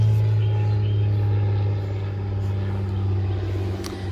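An airplane passes over a backyard vegetable garden with rows of kale, producing a steady, fairly loud low drone that holds throughout and eases slightly toward the end.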